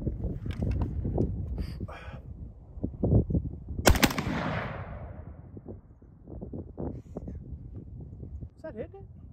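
Aero Precision M16A4 clone rifle fired outdoors in quick rapid bursts of loud sharp cracks, with one especially heavy blast echoing out midway and people speaking between shots.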